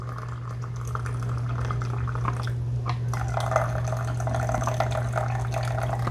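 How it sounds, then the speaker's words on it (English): Coffee poured from the glass carafe of a Gourimia 12-cup drip coffee maker, a gurgling liquid trickle with small splashes over a steady low machine hum, nearby and moderately loud. "And you really got to kind of tilt it to get the coffee to come out."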